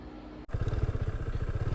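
After a brief cut, a nearby motorcycle engine runs with a fast pulsing low throb and rattling clatter, recorded on the move by a helmet or bike-mounted action camera, loud and steady without talk.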